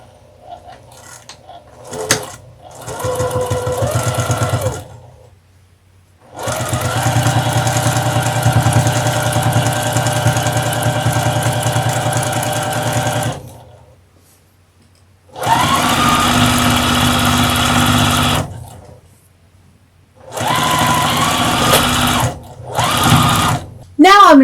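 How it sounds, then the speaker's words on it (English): A sewing machine stitches a fabric Halloween table runner in several long bursts of fast, even whirring, loud and close, separated by silent pauses and brief handling noises. "I'm going to do that right over at the sewing machine."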